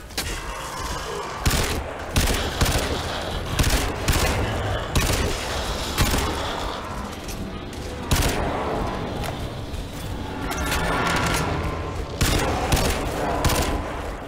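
Gunfire from a weapon in the shooter game Crysis 2 crackles in loud, close bursts, with rapid volleys broken by short gaps and a few heavier booming shots.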